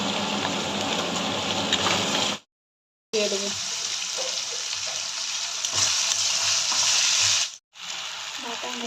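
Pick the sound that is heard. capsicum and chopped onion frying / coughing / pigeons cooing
capsicum and chopped onion frying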